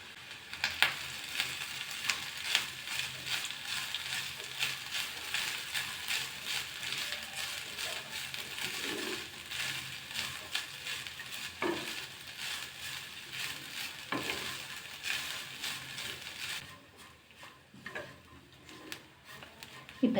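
Three-quarter cup of grated coconut frying on a low flame in a pan with tamarind for a coriander seed thuvaiyal, a soft steady sizzle with occasional light scrapes and taps of stirring, quiet and close.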